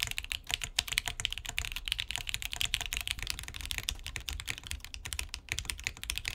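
Rapid, continuous clacking of keys on a QK80 mechanical keyboard, close and crisp, with irregular keystroke rhythm and no talking.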